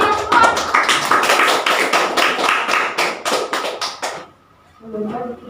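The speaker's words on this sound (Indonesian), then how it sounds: "Beri tepuk tangan untuk Nanda dan untuk kalian semua" A classroom of students claps hands in a rapid, dense burst of applause lasting about four seconds, then stops abruptly as a voice begins speaking.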